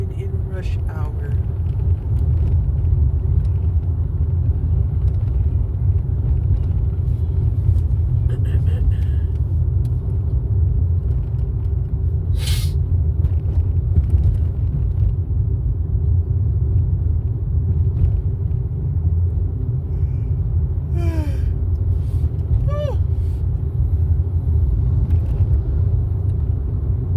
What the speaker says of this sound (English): So I'm driving back home, and I'm definitely driving in rush hour.